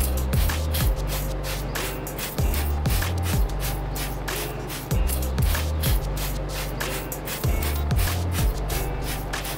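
Water spray blasts a car wheel during a rinse after wheel cleaner, a loud continuous hiss with rhythmic low thumps and sweeps as the jet moves across the rim.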